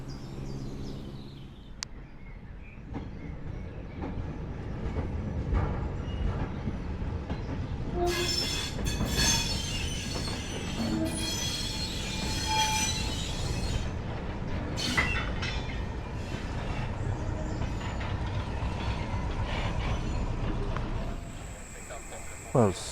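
Steam locomotive on a heritage railway with several engines in steam, a continuous loud hiss and rumble with bursts of venting steam and squealing wheels, heard close up for over twenty seconds with someone talking over parts of it.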